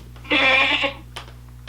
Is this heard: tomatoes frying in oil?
no